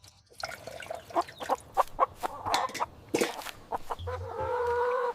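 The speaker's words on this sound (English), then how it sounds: "The chickens drink a little water in the yard." Chickens clucking in a farmyard, a series of close, intermittent clucks and calls, with a softer continuous bubbling sound in the last second.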